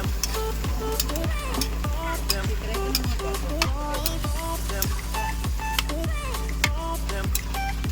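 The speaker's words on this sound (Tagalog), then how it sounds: "Haluin natin." A spoon stirs chicken curry in a cooking pot with a steady rhythm of scraping strokes about twice a second, close and clear, over a continuous low sizzle.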